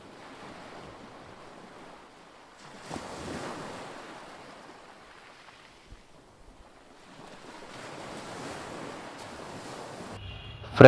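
Ocean waves on a beach in Vizag wash in and recede in soft, fairly distant surges with wind noise, ending in a sudden loud bump.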